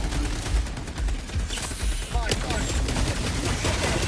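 Sentry turrets open fire in the video game Helldivers 2 while a Bile Titan attacks. Dense, rapid gunfire rattles on continuously, with a voice talking over it.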